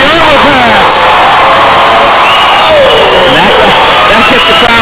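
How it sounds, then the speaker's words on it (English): A volleyball arena crowd at a men's match against Ball State roars loudly and continuously, cheering and whooping with clapping mixed in, close and dense throughout while a commentator talks over it. "There's some people standing up. There's some people clapping."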